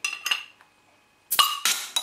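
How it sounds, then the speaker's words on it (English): Metal cap prised off a 15% North Cotswold Arctic Global Warmer real ale bottle with a bar blade opener, a couple of sharp clinks and a bright metallic pop, close and loud, no talking. "Let's get this beer open with a BB Barfly."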